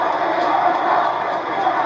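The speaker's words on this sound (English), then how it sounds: "They're stomping here, clapping to sound like a thunderstorm." A wrestling crowd at a live show stomps and claps together in a dense, loud, continuous roar of thumping and applause, filling the arena evenly throughout.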